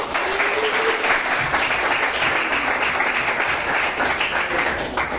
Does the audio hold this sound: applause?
yes